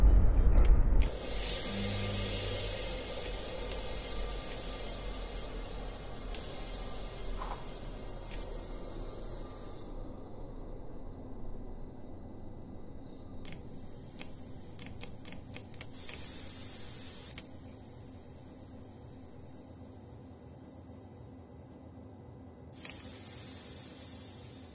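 A BR 628 diesel railcar in the ZuSi3 train simulator rolls slowly and brakes gently on the Wutachtalbahn, with a steady low rumble broken by clusters of faint clicks and a brief rise in noise near the end.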